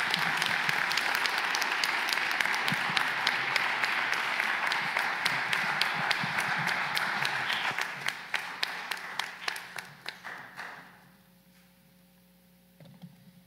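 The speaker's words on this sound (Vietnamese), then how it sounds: "Xin cộng đoàn chúng ta nổ một tràng vỗ tay." A church congregation applauds newlyweds at an Easter Mass, sustained dense clapping that thins into scattered individual claps before fading to quiet.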